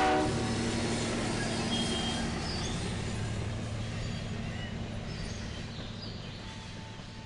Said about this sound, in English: Oh, there went the train.